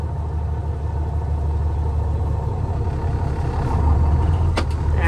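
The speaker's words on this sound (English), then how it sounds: "Put it in drive, okay. And let out of the clutch." Heavy semi-truck hauling corn rumbles steadily as it pulls away, a dense low engine drone that swells slightly toward the end, with one brief metallic clank near the close and no talking.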